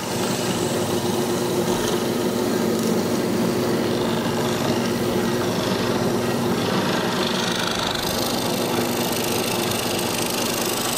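A Nakahashi hollow chisel mortiser cutting a mortise in wood, its motor droning loud and steady throughout with a grinding, buzzing cut layered over the hum.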